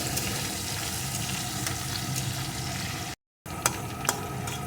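Garlic paste fries with onions in a pan, a soft, continuous sizzle with faint stirring clicks and one short break in the sound.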